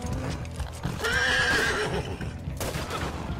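A single loud, drawn-out whinny from Cleo, a horse in Red Dead Redemption 2, rises over steady clip-clop hoofbeats, then trails off.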